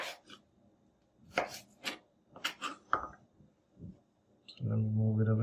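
A knife chopping cucumber on a board for a chicken salad, with a handful of separate crisp cuts spaced irregularly, close and fairly loud, before a low steady hum takes over at the end.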